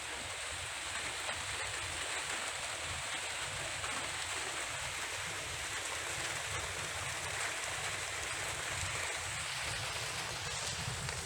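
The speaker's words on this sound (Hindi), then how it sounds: "ये देखिए, तेज हो गई है बारिश, तेज।" Heavy rain pours down in a dense, constant hiss, steady and close, with no voices or breaks throughout.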